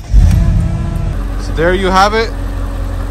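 A Mercedes SL55 AMG R230 engine starts with a heavy low rumble and settles into a steady idle, running loud throughout while someone talks over it.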